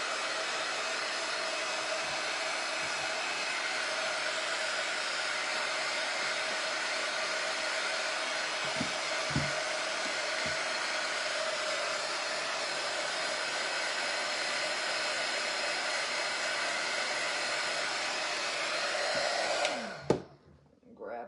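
A hair dryer runs steadily at close range, drying paint on a wood picture frame being upcycled with molds and plaster, a continuous loud blowing whir that holds for about twenty seconds before cutting off abruptly.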